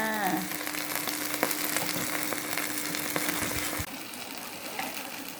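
Pork sizzles on a small Thai mu kratha grill, a close, constant crackle with a faint steady hum that drops away near the end, after a brief voice at the very start.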